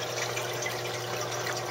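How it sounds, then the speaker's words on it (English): Water rushes steadily down the drain pipe of an aquaponics ebb-and-flow bell siphon draining a 41-quart underbed storage tote, a constant close gurgling hiss with no pauses. "the water's flowing into the holes in the bottom, getting pulled over the top, and then it's going down the drain pipe"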